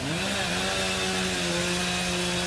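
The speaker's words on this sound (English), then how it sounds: "Oh, come on, enough with the chainsaws already." Chainsaw running steadily in the cleanup after Hurricane Irma, a loud continuous engine whine with a slight pitch rise at the start, close by and with no talk over it.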